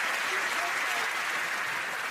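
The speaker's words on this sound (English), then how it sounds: "Round of applause." Steady, dense applause from a studio audience at a comedy reunion show, a continuous wash of many hands clapping at even loudness throughout, with no gaps or voices standing out.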